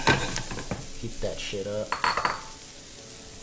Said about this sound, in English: Just toss everything with bacon.